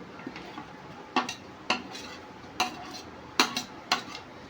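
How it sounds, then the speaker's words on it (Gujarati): Crushed corn stirred into capsicum paneer bhurji with a spoon, clear repeated clinks and scrapes against the pan at an uneven rhythm, close and fairly loud over a faint sizzle. "અને આને પણ આપણે સરખી રીતે મિક્સ કરી લઈશું।"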